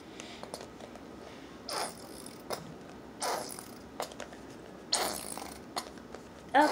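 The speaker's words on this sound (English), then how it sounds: "farting out all the glue" Glue squeezed out of a bottle while making slime sputters in several short, raspy, fart-like bursts, spaced irregularly, close and fairly quiet, with no talking over them.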